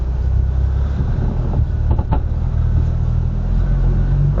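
A manual car idling with its engine rumbling steadily, forced into first gear without the clutch, a low continuous drone with a brief mechanical clunk midway.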